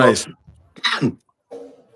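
A few short, harsh cough-like bursts separated by brief pauses, loud and close, followed by a low voiced sound.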